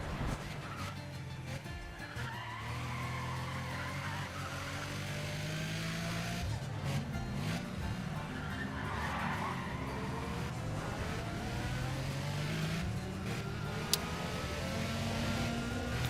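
Honda NSX engine in the racing game Need for Speed ProStreet, a continuous revving drone that rises and falls through gear changes, with faint tire noise under it.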